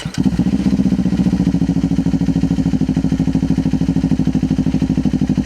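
A motorcycle engine runs with a little throttle applied, a loud, close, steady chugging pulse after a brief starting thump, holding an even beat throughout.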